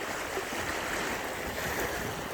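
Legs wading through knee-deep floodwater on a long half-kilometre walk give a steady, dense rush of sloshing water that stays close and even throughout, with no voices.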